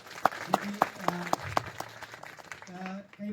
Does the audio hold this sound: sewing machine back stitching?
no